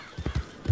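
Several hooves clip-clop in a short uneven run from a horse in the video game Red Dead Redemption 2, close and fairly soft with nothing else over them.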